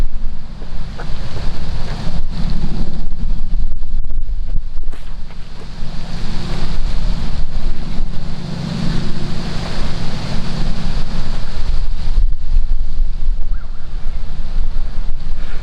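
Strong wind buffets the microphone on a disc golf course, a loud, continuous roaring rush with gusty swells and dips over the whole stretch, no talk.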